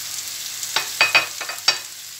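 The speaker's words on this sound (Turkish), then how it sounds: "Kavurmayı ilave ediyorum." Beef kavurma goes into a pan of sautéed peppers, giving a soft hiss and several sharp sizzling bursts as it is stirred, nearby and fairly quiet.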